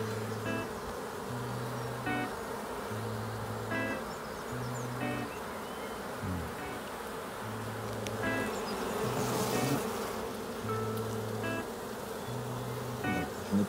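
Honeybees in an opened hive give a continuous, close, droning buzz that stays at a steady level throughout, with no voices.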